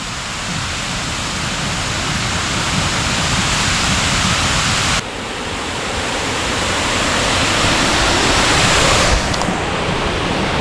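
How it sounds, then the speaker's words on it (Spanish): A powerful waterfall pouring over a river dam on the Guadalcobacín in fog after heavy rain, a loud, constant roar of rushing water filling the space, steady throughout with no voices. "tenemos una cascada impresionante, pero tiene pinta de que es de un dique"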